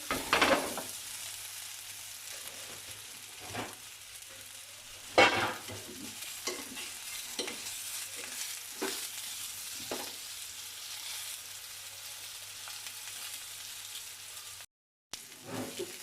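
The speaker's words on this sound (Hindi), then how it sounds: "कोफ्ते हमारे शैलो फ्राई हो चुके हैं" Chicken koftas shallow fry in a pan of oil with a steady sizzle, broken by occasional clatters and scrapes as they are stirred and turned.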